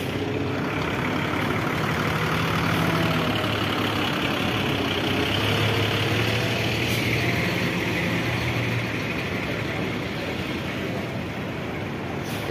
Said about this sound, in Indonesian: Ini Sinar Jaya Jakarta Cilacap 72ZX berangkat juga.